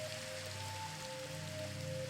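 Rain falling in the video game Minecraft, a continuous soft hiss for about two seconds with a faint sustained tone beneath it.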